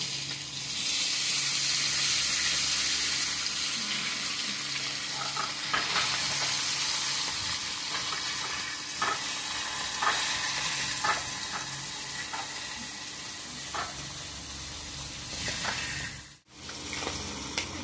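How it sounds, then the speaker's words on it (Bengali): Rohu fish pieces fry in a pan with a continuous loud hiss and sizzle, scattered light clicks and spits breaking through over nearly eighteen seconds. "মাছ ভাজা প্রায় হয়ে গেছে"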